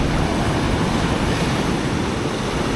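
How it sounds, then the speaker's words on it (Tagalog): Strong waves break during the northeast monsoon at a rocky fishing spot, making a dense, unbroken roar of surf. The sound is loud and close, and no voices are heard. "sobrang lakas ng alon"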